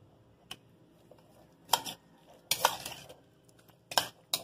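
Leche de tigre being stirred in a pot, a few scattered clinks and scraping bursts of a spoon against metal, close and fairly quiet, with gaps of near silence between them.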